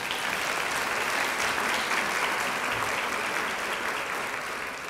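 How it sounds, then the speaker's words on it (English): Dense, continuous applause fills a banquet room at an awards dinner, steady and sustained from start to finish without any clear voices. "please join me in giving AWARE a round of applause as well"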